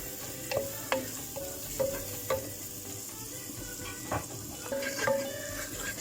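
Salted sauce for coconut-breaded chicken being stirred in a pan, with intermittent spoon taps and scrapes over a faint sizzle, close and fairly quiet, no voices.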